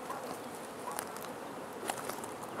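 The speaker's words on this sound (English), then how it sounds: "there's a bee that wants me out of the hive" A honey bee buzzes steadily at close range by an open hive, a continuous drone with a couple of brief louder passes as it circles near.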